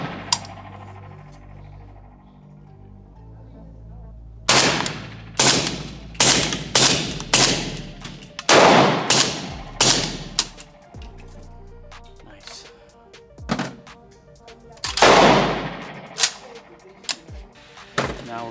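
AK-pattern rifle from Soviet Arms/PSA fitted with a Krink muzzle device firing 5.45x39 rounds from a 10-round magazine, a string of about nine loud, sharp, close shots spaced unevenly with brief pauses between some.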